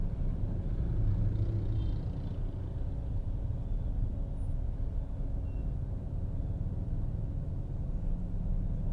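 Cars stuck in a Jakarta traffic jam, a steady low rumble of engines and road noise heard from inside a stopped car, with no talking.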